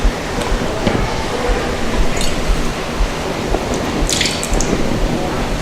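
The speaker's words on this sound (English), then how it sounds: "Wash with water and then rinse with distilled water." Running water rinsing laboratory glassware such as a burette and funnel, a steady close hiss of flowing liquid with scattered drips and clinks, no talking.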